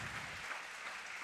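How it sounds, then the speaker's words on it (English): A crowd at a fight club bout claps for the winner, a dense, steady wash of applause that holds evenly throughout a short stretch. "give him a round of applause"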